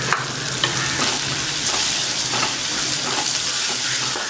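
Spices sizzle in hot oil while a spoon stirs and scrapes the pan in a steady rhythm, close and fairly quiet, with no voices.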